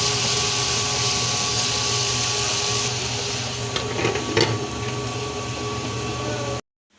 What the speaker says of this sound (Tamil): அடுத்து வந்து நம்ம அரிசி அரைக்க ஆரம்பிக்கலாம் கிரைண்டரில்